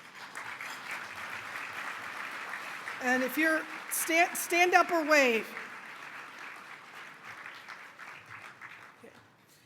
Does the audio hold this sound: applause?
yes